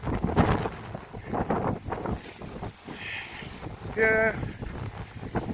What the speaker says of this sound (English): It's windy as fuck, as you can see.